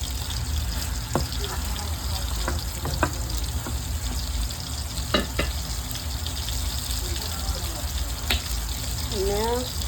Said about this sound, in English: Okay, so we're gonna keep stirring this.